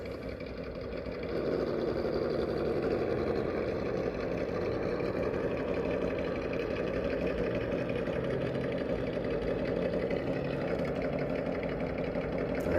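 A small RC crawler truck creeps down a descent, its electric motor giving a steady, close whirring drone that rises after the first second and holds evenly throughout.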